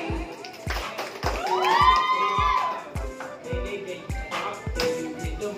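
Fans at an anniversary celebration cheer with shouts and a rising whoop, over a thumping, regular beat and scattered claps.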